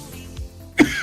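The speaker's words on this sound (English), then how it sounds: "don't mind me, just coughing a lung up." A single sharp cough bursts out near the end, preceded by a softer throat sound, close to the listener over a low background hum.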